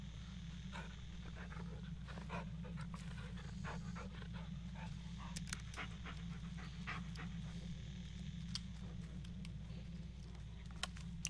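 A dog pants steadily and quietly in the Blair Witch video game, with faint pattering ticks over a low, constant ambient rumble and no talk.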